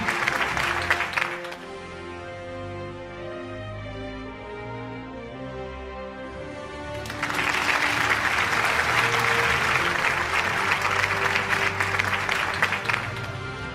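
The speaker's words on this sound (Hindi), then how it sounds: "A huge round of applause, ladies and gentlemen." Audience applause at a city news network annual award show, a steady crowd clapping that thins briefly under background music, then returns louder and fuller for the rest of the stretch.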